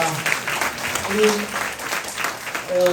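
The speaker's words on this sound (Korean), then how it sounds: "우리 박수 한번." A Catholic parish congregation applauds with dense, continuous clapping that swells and fades slightly, while voices speak faintly beneath it.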